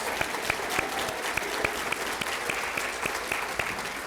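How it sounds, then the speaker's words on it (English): Audience applause at a school district awards event keeps a steady, moderate wash of clapping, with a few sharper, evenly spaced claps standing out above the crowd. "Give them a round of applause."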